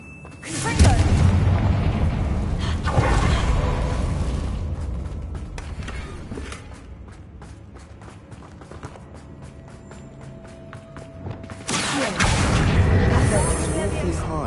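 A Confringo fire spell in Hogwarts Legacy erupts in heavy booming blasts at the start and again near the end, loud and close, with lower rumbling and movement sounds between them.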